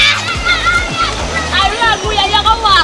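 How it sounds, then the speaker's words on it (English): A foot gets washed off in water with several sloshing splashes close by, and children's voices chatter over the water sounds throughout. "So you wash off your foot in the water."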